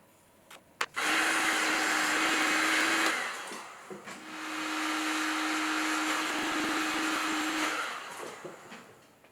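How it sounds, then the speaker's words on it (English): Paint stripper heat gun blasting a freshly thrown clay teapot pedestal to dry it: two long, loud whooshing bursts with a steady motor whine, the first about two seconds and the second about four, after a couple of small clicks. "blasting it a couple of times with a paint stripper"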